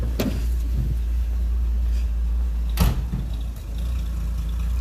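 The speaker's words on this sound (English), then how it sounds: "it's running a little rough, but at least it's got fuel." A car engine idles roughly after a fuel repair, a steady low rumble heard up close with a couple of brief sharp clunks or thumps over it and no talking.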